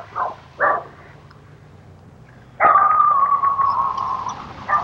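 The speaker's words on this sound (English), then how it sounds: "Dog." A dog in Yakutsk barks twice in quick short yelps, then lets out a longer sustained whining bark-howl that carries on for a couple of seconds, fairly close and alone.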